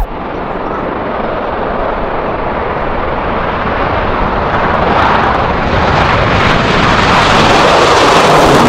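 A fighter jet roars past, a loud, steady broadband rush that slowly swells in intensity and fills the whole clip.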